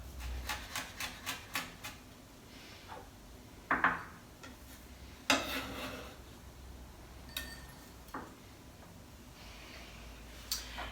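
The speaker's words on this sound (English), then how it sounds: "Just split it down the centre and remove the seeds and the membrane, and then finely chop." Knife finely chopping chilli on a chopping board, heard as a quick run of light, crisp taps at the start, then scattered single knocks against a quiet background.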